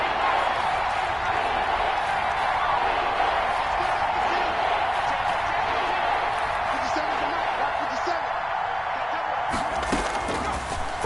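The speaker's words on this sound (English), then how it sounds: "the crowd getting into it as we come up on a big 3rd down" Football stadium crowd roaring steadily through a big third-down play, a dense, sustained wash of cheering and noise from a large gathering, loud and continuous without letup.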